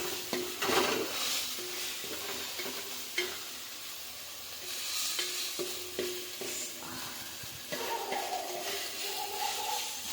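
Fish curry masala fries and is stirred in a pan, giving a continuous close sizzle broken by repeated scraping stirs of the utensil, with no talking.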